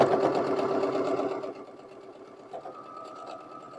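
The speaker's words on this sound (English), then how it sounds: "let's go to the sewing machine and put those together" A sewing machine stitches a quarter-inch seam on a quilt block, running steadily and close with a fast, even mechanical whir that slightly softens and changes pitch partway through.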